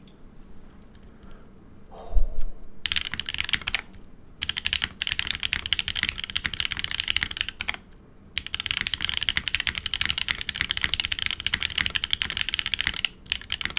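Typing on a Calla TKL prototype mechanical keyboard in a top-mount build with the O-ring removed: dense, rapid clacky keystrokes in bursts, close and fairly loud, with short pauses between runs and no talking.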